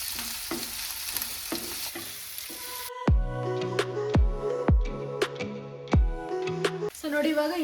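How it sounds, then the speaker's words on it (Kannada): Onions and green chillies fry in a pan, a steady sizzle with repeated stirring scrapes and utensil knocks against the pan, then a sharp metallic tapping. "ಈರುಳ್ಳಿ ಮತ್ತು ಮೆಣಸಿನ್ಕಾಯಿ ಹಾಕೊಂಡ ನಂತರ ನಾನು ಇವಾಗ ಇದನ್ನು 2 ನಿಮಿಷದವರೆಗೂ ಇದೇ ರೀತಿ ಫ್ರೈ ಮಾಡ್ಕೊಳ್ತೀನಿ"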